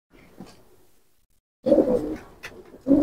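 Rampuri pigeons cooing close by, a faint low murmur first, then louder throaty coos in short bursts after a pause, with brief soft chirps between them.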